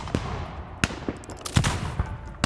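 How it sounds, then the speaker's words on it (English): Gunfire erupting from both flanks in a battle on a ridge at Jaithak, with sharp scattered shots cracking over a dense rumbling background of battle noise; irregular reports rather than a steady burst, fairly loud and close. "Suddenly, gunfire broke out from both flanks."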